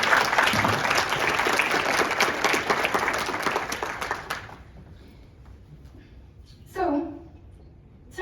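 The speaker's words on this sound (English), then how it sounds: "Give me a clap for her remarks" At a 20th anniversary diversity and inclusion networking banquet at Fordham, an audience claps loudly for about four seconds before the applause cuts off, leaving quiet room noise and then a brief spoken voice.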